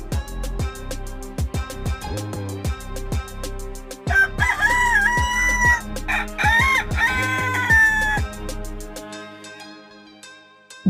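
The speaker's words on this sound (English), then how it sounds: "Rooster." A rooster crows loudly and close by, one long cock-a-doodle-doo in the middle. Rhythmic clucking comes before it and continues after it, and the sound then fades to quiet.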